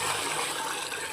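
Water poured out for animals to drink on a hot summer day, a steady broadband splashing gush that holds at even loudness throughout, close by with no talk.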